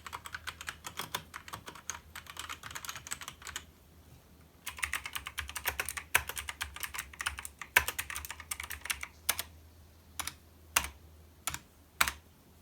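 Rapid typing on a Trust GXT 865 Asta mechanical keyboard, close and crisp: dense runs of clacking keystrokes, a short pause, then more bursts that thin out into slower, isolated key presses, with no voices.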